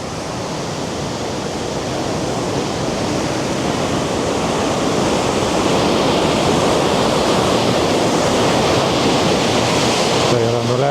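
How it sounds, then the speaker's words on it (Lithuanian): Water rushing out of a canal lock on the Wesel–Datteln canal, a loud, steady roar of churning flow that swells slightly and holds broadband and constant throughout. "Tai yra nuleidžiamas vanduo."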